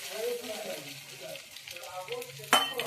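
Beaten egg for an omelette, mixed with onion, goes into a little hot oil, giving a soft sizzle that swells under low talking, then a sharp burst of frying near the end.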